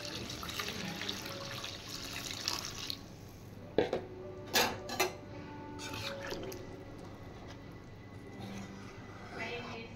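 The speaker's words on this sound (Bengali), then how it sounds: "এবার আমি জল দিয়ে দেব।" Water is poured into a pot of chicken curry as it cooks, giving soft splashing and dripping with a few brief louder splashes in the middle, fairly faint overall.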